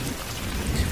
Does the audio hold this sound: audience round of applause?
no